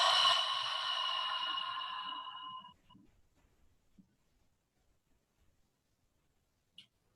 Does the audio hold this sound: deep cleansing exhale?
yes